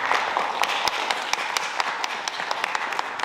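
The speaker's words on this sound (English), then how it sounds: "Give yourselves a round of applause because you're here." Modest audience at a Law Day session giving a round of applause, scattered, fairly faint claps with distinct individual hits throughout.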